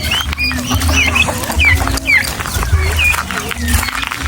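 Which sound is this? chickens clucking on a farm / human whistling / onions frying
chickens clucking on a farm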